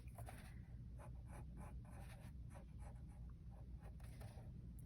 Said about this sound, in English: See, I went too wide, so I'm gonna erase.